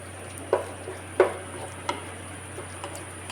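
Prawns in masala stir in a pan, with a faint, even sizzle beneath three or four distinct scraping taps of the spoon at a slow, regular pace.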